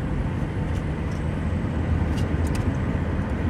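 A car accelerating along a curved highway with a 55 mph speed limit, its steady engine and road rumble loud and close throughout, with no talk over it.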